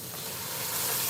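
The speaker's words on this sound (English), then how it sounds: "Can you hear the sizzling sound?" A stir-fry sizzles steadily in a pan over high heat, a bright, continuous crackling hiss heard up close with no talking.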